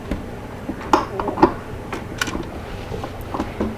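Parts of an electric pressure cooker being refitted: a knob twisted back on and tightened, then the lid slid into place, giving a few close plastic-and-metal clicks and clinks over a quiet room.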